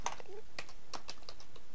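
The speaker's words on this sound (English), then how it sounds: "I accidentally typed 1 and then started typing D, Darwin, 1D." Someone types on a computer keyboard, a quick run of crisp, close key clicks in an uneven rhythm over a quiet room, with no speech.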